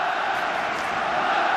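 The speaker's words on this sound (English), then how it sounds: "the crowd chanting Barca" A stadium football crowd at a Barcelona match against Real Betis roars and chants in a dense, continuous wall of voices, loud and distant-sounding, with no break through the short stretch.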